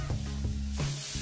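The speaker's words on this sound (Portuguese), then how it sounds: "Vamos ver se vai fazer chiadão" Rump steak skewers on a grill hiss with a dense, loud sizzle, alongside a low rhythmic thumping hum of roughly three beats in the short stretch.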